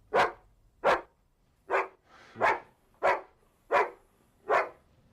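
A dog barks in a horror film, seven sharp, evenly spaced barks at moderate distance with quiet gaps between them and no talk.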